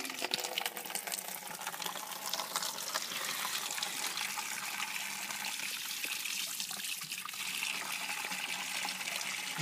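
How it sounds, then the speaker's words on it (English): A tap runs steadily into a sink while a child's hands are washed, a continuous close splashing hiss lasting throughout with no talking over it. "Washing your hands."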